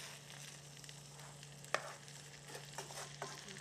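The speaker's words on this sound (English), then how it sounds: "You can hear it starting to cook and doing what it does." A spice mixture cooks in a pan with a faint, steady sizzle, broken by a sharp clink and a few softer scrapes of stirring.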